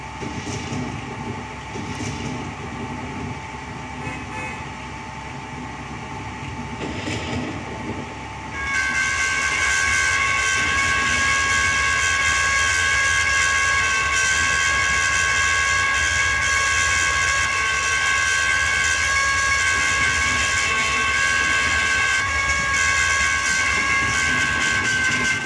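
A train passes close by at a railroad crossing, a steady loud rumble and rattle of rolling cars that swells sharply partway through and holds to the end.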